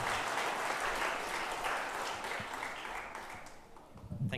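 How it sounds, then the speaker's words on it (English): Warm audience applause at an evening gathering, a full, even round of clapping that gradually thins and fades toward the end with a few scattered claps. "A round of applause for Mr."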